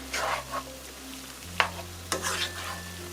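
Squid goes into a wok with already-cooked shrimp and scallops, producing a soft sizzle with a few sharp clinks and scrapes of stirring over a low background hum.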